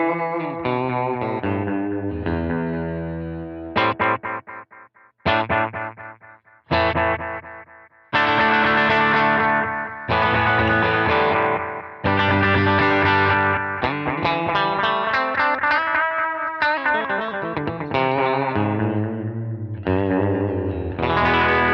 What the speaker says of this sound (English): sometimes just having a slight bit of delay or a slapback on it is really nice